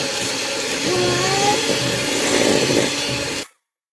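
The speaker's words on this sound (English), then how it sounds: "now we're going to mix this and mix it for 3 minutes" A handheld electric mixer beats vanilla cake batter in a home kitchen, a steady whining motor hum running close and loud for several seconds before cutting off abruptly into silence.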